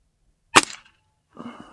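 A single sharp crack from a Gamo Swarm Magnum air rifle fired through a chronograph, followed by a short faint rattle about a second later.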